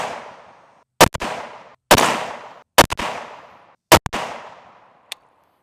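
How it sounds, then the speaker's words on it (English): Rifle shots fired at a target while zeroing an EOTECH holographic sight, four loud sharp reports spaced about a second apart, each ringing out briefly, followed by a fainter final shot. "Let's go ahead and shoot this group."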